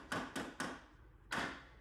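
A hammer strikes motorcycle handlebars on a Honda NSR 250 MC21: three quick sharp knocks, a short pause, then one more, fairly faint and alone.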